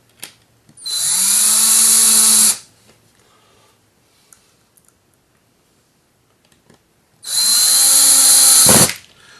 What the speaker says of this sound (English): Bear with me when I put in 4 screws in here.